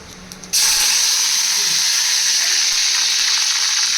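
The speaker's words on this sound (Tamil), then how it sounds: "சோம்பு எப்பவுமே நல்லா கொஞ்சம் நல்லா பொரியணும், அதான் நல்லது." Fennel seeds hit hot oil for a chicken kulambu and burst into a loud, sudden sizzle that keeps hissing and crackling evenly up close after a brief quiet start.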